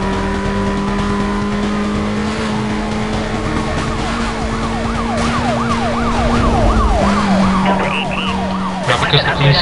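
Police sirens from a Need For Speed: Most Wanted Black Edition chase, a steady wail turning into rapid yelping sweeps over a loud game engine drone, closing with a sharp burst of noise.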